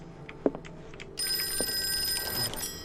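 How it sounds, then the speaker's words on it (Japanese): A telephone rings in the Call of Cthulhu video game, a steady electronic ring starting partway through and sustained to the end over a quiet ambient game background with a few soft thumps. "とりあえず電話を出ようか。"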